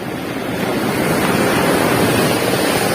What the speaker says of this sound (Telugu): మీరు చూస్తున్నారు కదా, ఇది భీమిలి బీచ్ అండి.